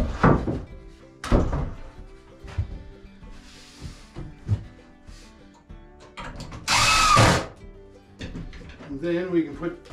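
A power drill drives screws into the end of a wooden shelf ledge in short whirring bursts, separated by knocks and thunks of handling wood, with a person talking between them.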